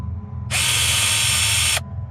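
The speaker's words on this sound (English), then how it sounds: "Another drill bit punched through the wall, right where my leg had been a second before." A power drill with its bit punching through a translucent plastic pool slide wall, a loud, steady high whine that starts abruptly and cuts off after about a second, over a low background rumble.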